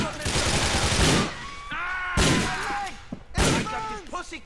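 Gunfire aimed at the player in GTA IV, several loud bursts of rapid shots in clusters, mixed with game voices and someone talking.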